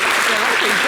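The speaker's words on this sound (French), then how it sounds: "On peut applaudir pour Pierre, s'il vous plaît?" Audience applauding for Pierre at a lively stage show, a short burst of dense, steady clapping from a crowd.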